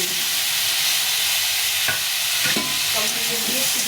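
Tomato frying in a pan with jhinge (ridge gourd), potato and turmeric for jhinge posto, a steady close sizzle with a few stirring scrapes and clinks, no voices.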